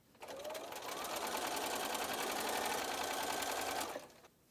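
A sewing machine runs steadily for about four seconds, stitching the last pieces onto a propeller quilt block. The motor whirs at a close, even pace, then stops abruptly.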